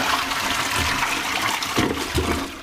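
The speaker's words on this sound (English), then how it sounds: "So I'm going to flush this." A toilet flushes loudly up close, a steady rushing whoosh of water through the bowl with surging gurgles near the end.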